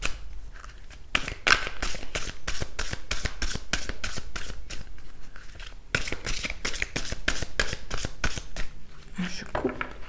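Oracle cards shuffled by hand in a quick, steady run of crisp riffling flicks, close and clear, pausing briefly around the middle before a second burst of shuffling and a soft cut at the end.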